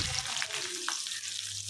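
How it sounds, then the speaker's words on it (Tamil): Sliced onions sizzling and frying in hot oil in a kadai with mustard seeds, a steady close crackling hiss with a couple of soft stirring touches. "அடுத்ததாக நீளமாக கட் பண்ணி வச்சுருக்க வெங்காயத்தையும் ஆட் பண்ணிக்கிறேன்."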